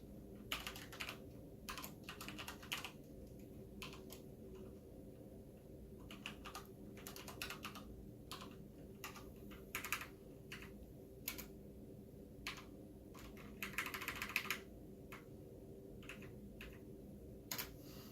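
Keys clack on a computer keyboard as a command is typed, quick bursts of tapping with short pauses between, fairly close over a low steady hum.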